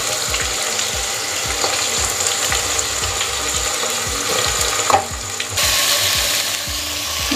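Chopped onions fry in hot oil for Hyderabadi-style mutton dum biryani, giving a steady, dense crackling sizzle with scattered sharp pops throughout, close and continuous, with no voices.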